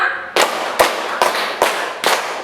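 Five sharp, evenly spaced bursts of group clapping ring out in a classroom tepuk semangat routine, each a crisp, near, unified slap of many hands.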